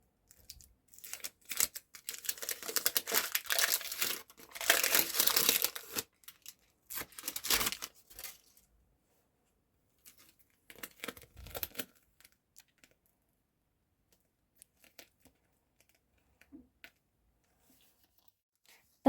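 Crinkly plastic rustling and tearing in bursts, loudest early on, then sparse small crackles and handling noises with quiet gaps between.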